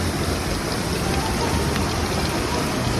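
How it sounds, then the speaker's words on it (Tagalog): Steady, dense rainfall hisses loudly and evenly throughout, a close continuous wash of drops on surfaces with no voices. "Ulan yun, no?"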